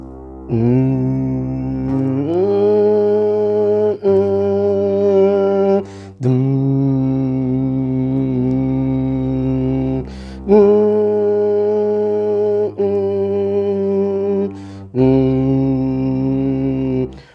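A smooth, sustained synth bass line in a minor key plays under a looping plucked mandolin pattern, the phrases restarting every couple of seconds in a steady, even groove.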